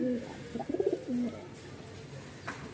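Pigeons of a breeding pair cooing on a farm of local and foreign pigeon breeds, a few close throaty burbling coos in quick succession, then quieter chirps and faint background noise.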